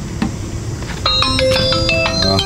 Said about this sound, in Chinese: 家里边来电话